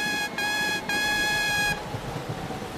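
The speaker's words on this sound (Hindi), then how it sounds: "मैं अपना हॉर्न बजाता हूँ" A cartoon bus from a train cartoon sounds its horn, a bright harmonic toot in three short blasts with brief gaps, followed by a soft background bed.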